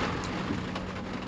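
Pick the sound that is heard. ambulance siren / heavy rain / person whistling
heavy rain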